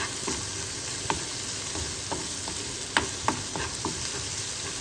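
Garlic frying in butter for molokhia, a soft steady sizzle broken by scattered clicks and scrapes from a stirring utensil against the pan.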